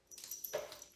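A dog whimpers in a brief, high, thin whine, close and fairly soft, with no talking over it.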